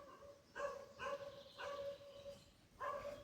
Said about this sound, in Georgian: ძაღლის ხმა იყო და თუ გაიგონეთ